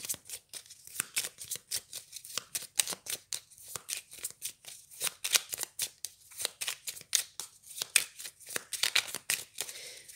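Tarot cards being shuffled for a reading, a long run of quick crisp riffling snaps and slaps in a steady rhythm, close and loud with no talking.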